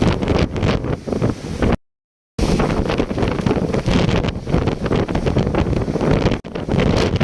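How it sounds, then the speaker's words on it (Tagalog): Constant heavy wind buffeting the microphone over the roar of large sea waves at a fishing coast, loud and unbroken apart from a brief dropout. "Grabe ng alon mga idol."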